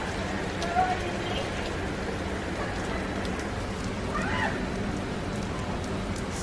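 Rain starts suddenly on a very hot day, a steady broadband hiss of drops falling on surfaces with a few brief louder patters, close by and continuous.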